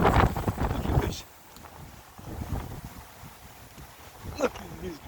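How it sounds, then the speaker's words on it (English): Strong, cold wind blowing outdoors across grass, buffeting the microphone with a heavy rumbling gust in the first second, then a steadier, softer roar with brief swells. "Wind is too much strong."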